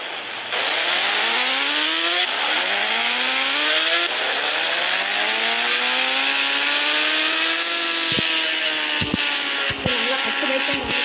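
Kawasaki motorcycle engine revving hard during an outdoor test, loud repeated climbing revs that rise, drop and rise again, ending with a few sharp blips near the close.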